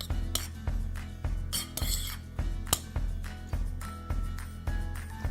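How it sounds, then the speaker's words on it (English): Gluten-free paleo brownie batter being mixed in a bowl, with a utensil scraping and clinking against the sides in repeated rhythmic strokes, close and fairly clear over a steady low background hum. "So we're gonna mix it all together."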